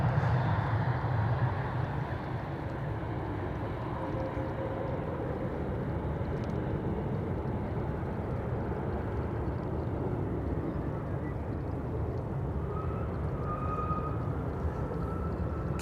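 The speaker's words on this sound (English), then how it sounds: "KLM, flight 1800 in the SkyTeam livery. In the meantime, landed here. That's an Embraer 190." A KLM Embraer 190 in SkyTeam livery lands at Amsterdam Schiphol, heard as a steady broadband engine roar from start to finish, loud and sustained with no talk over it.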